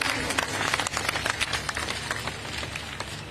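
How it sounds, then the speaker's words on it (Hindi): A village crowd at an election rally in Mahmudpur claps loudly to welcome a guest on stage, steady dense applause from many hands across the whole span with a low hum underneath. "जोरदार तालियों से इनका भी स्वागत करिए।"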